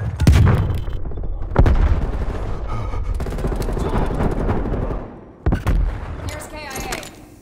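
A frag grenade blast in Call of Duty Black Ops Cold War, in a team deathmatch on the Crossroads Strike map: loud, close booms mixed with heavy bursts of gunfire, followed by a second explosion late in the clip.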